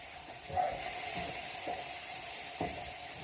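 Mushrooms and onions sizzle in a frying pan with a steady, close hiss across the whole stretch, joined by a few faint clinks and stirring knocks.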